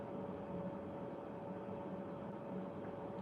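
Water running into a bathtub somewhere in the background makes a steady, even hiss with a faint tonal hum. It holds constant for the whole stretch, with no voices over it.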